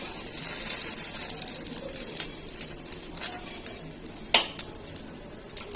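Pointed gourd (potol) pieces frying in an open pan for a vegetarian potato-potol curry, a soft steady sizzle with a few scraping stirs and one sharper clatter near the end, no talking.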